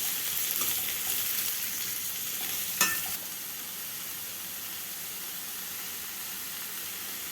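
Onions sauté in a pan for millet dosa with a steady, close sizzle and hiss, one brief scrape of stirring partway through, and no voices.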